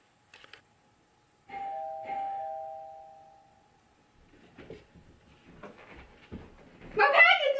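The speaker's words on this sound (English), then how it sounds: "I don't know who else would ring my doorbell besides the UPS dude." A two-tone ding-dong doorbell rings once in a quiet home, the second chime ringing out and fading slowly, followed by shuffling, soft movement noises and a voice rising near the end.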